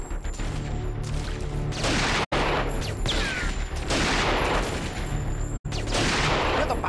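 Dense, sustained gunfire from the shooter game Dead to Rights, loud and continuous, with a rapid crackle of shots and impacts. Two sharp gaps break the barrage, which otherwise runs without talk.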